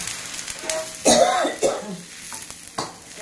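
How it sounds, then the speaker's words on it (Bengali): A woman coughs a few harsh times in a home kitchen, close and loud, with soft stirring and light sizzling of a pan underneath and brief talk around it. "আর দাদা কাশি আরম্ভ হয়ে গেছে"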